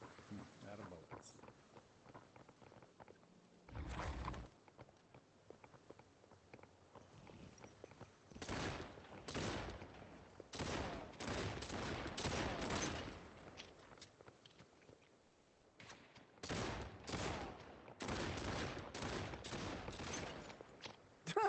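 Bursts of gunfire in a video game come in clustered volleys separated by quieter stretches, fairly faint overall and muffled, with talking heard between the shots.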